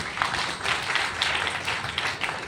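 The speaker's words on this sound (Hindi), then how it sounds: "उनके लिए भी एक जोरदार ताली होनी चाहिए" An audience in a hall applauds with steady, dense clapping from many hands, moderately loud and continuous for a couple of seconds.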